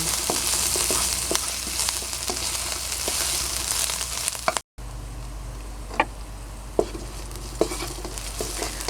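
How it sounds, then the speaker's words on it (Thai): A garlic, coriander root and pepper paste stir-fries in oil over low heat for a savory filling, giving a continuous soft sizzle with occasional light utensil taps, close and unaccompanied by talk. "เราก็จะใส่สามเกลือลงไป ผัดให้หอมนะคะ ใช้ไฟอ่อนหน่อยนะคะ"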